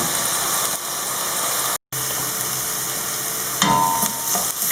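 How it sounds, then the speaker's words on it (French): A large onion frying and being stirred in a pan, with a steady loud sizzle throughout, a brief cut of silence midway and a burst of scraping stirring near the end; no voices. "ضفت حبه كبيره ديال البصل، نخليوها تقلى المهل ونحركوها"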